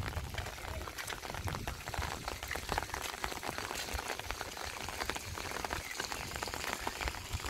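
Fountain water splashes continuously at the entrance gate of Lohagarh Fort resort near Jaipur, a dense, steady patter and spray with no pauses.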